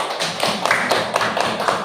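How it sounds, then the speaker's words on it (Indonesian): A classroom of primary school children claps hands together in a quick, steady patter of taps lasting a couple of seconds, loud and close. "Tepuk tangan dulu."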